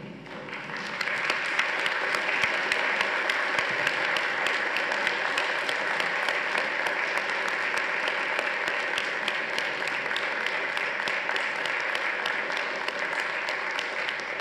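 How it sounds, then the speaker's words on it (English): A large graduation ceremony audience for a School of Computing gives a sustained round of applause, with thick, even clapping after a short quiet start and holding at a steady level to the end. "round of applause."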